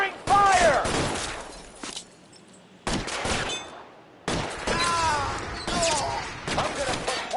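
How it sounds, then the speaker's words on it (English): Gunfire in the video game L.A. Noire, loud bursts of rapid shots and single cracks in clusters separated by brief lulls, with someone shouting over the shooting. "Covering fire!"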